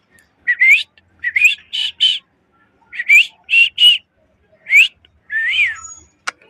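A person imitates a parrot, whistling a series of sharp, rising squawk-like calls in short bursts of two or three, clear and close, ending with a longer warbling call and a brief click.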